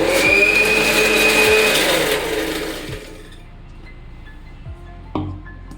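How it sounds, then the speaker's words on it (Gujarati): A kitchen mixer grinder purees mango pulp for mango lassi, whirring loud and steady for about three seconds before it winds down, followed by faint clinks from the jar. "મેંગો લસ્સી માટે આપણે મિક્સર જાર લઈ લીધું છે. તેમાં આપણે કેરી એડ કરી દઈએ અને તેનો પલ્પ કાઢી લઈએ."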